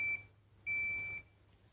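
A PowerTube handheld device beeps twice after finishing its third cycle: two clear electronic tones, a short one then a longer one about half a second later, alone over a faint low hum.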